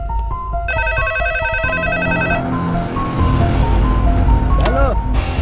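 Telephone ringtone in a tense movie scene, a repeated electronic tone pattern cutting through loud dramatic music and effects with a voice over it.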